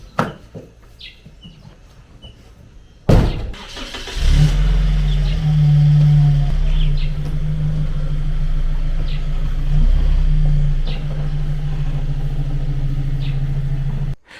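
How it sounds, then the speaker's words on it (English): A vehicle carrying farm workers to farmland in a village, starting with a thump and then a steady engine drone as it drives, while birds chirp faintly in the background and no one speaks. "We are driving to our land because we are carrying farm workers."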